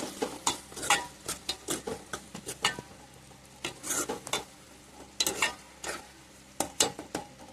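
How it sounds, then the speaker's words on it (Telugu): Brinjal fry being stirred in a pan after chili powder goes in: repeated close scraping and clinking strokes of a spatula against the pan in an uneven rhythm over a faint sizzle. "కారం కూడా వేసుకొని బాగా కలుపుకోవాలి."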